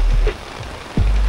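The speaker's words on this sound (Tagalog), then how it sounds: "Inabot na kami ng ulan." Rain falling on a 4x4 camping setup at a festival campsite in Tanay, Rizal, a steady patter under low rumbling wind, with a few close knocks and thumps cutting through.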